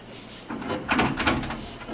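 A closet sliding door that has come off its track in a Cancun villa rental is shaken and handled, giving a cluster of close rattling clunks and scrapes that rise in the middle and trail off.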